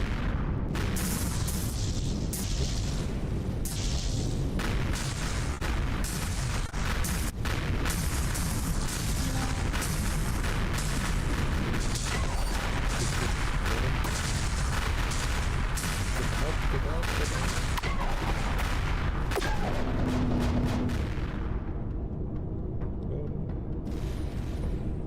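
Artillery fire in the space-survival game Empyrion, a sustained barrage of rapid booms and bursts piling into a dense, loud, continuous roar that thins near the end, with a voice briefly under it.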